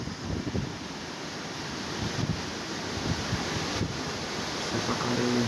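Floodwater rushes past a riverside ghat in a village, a steady broad roar that grows slightly louder over a few seconds, mixed with wind on the microphone.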